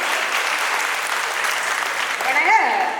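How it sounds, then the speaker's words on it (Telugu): A group of students clapping together in a classroom, sustained brisk applause that swells briefly near the end as a voice cuts in over it. "అంతా క్లాప్ చేసుకోండి"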